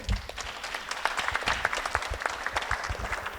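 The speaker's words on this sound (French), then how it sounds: "On peut applaudir," An audience claps steadily, a dense patter of many hands that stays even throughout, not very loud.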